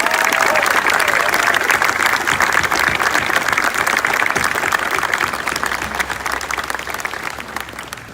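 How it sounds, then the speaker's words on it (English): Loud, sustained crowd applause at a library expansion grand opening, a thick steady roar of many hands that holds for several seconds and eases slightly near the end. "deserves a thunderous round of applause for a job"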